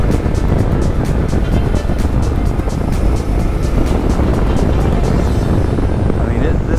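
A Yamaha Tenere adventure motorcycle pulls hard on a test ride, its engine roaring loud and close over steady wind buffeting, with a rider speaking over it.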